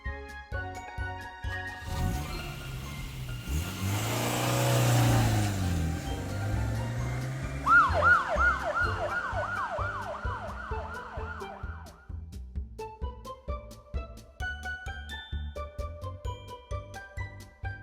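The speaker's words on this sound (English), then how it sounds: "Small. Police car." A police car siren wails in a rapid rising-and-falling yelp of repeated sweeps, preceded by a passing engine rumble, with a light tinkling musical backing throughout.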